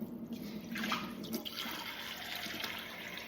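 Filtered tap water poured from a measuring cup into a mixing bowl for sourdough bread dough, a soft steady splashing trickle close by with no talk.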